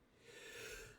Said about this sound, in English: I have a sneeze